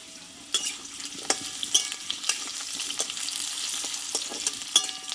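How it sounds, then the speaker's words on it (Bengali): Potato pieces fry in a pan for a Bengali five-vegetable curry. A steady hiss of hot oil runs throughout, broken by sharp, frequent clacks and scrapes of a spatula stirring close by. "আলুটাকে আমি চার থেকে পাঁচ মিনিট মতো ভালোভাবে কষিয়ে নেব"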